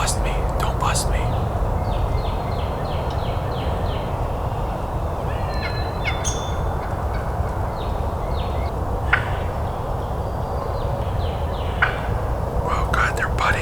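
Soft clucks and purring calls from wild turkey hens during a turkey hunt, scattered chirps and putts over a low outdoor rumble, with quiet whispering nearby.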